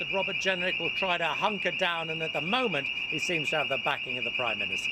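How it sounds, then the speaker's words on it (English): A fire alarm sounds as a continuous high-pitched electronic tone running steadily underneath a reporter speaking live from Westminster during a news broadcast. "That's a fire alarm"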